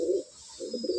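A Madrasi pigeon in a loft coos in two low throaty bursts separated by a short pause, close and clear against a faint background hiss.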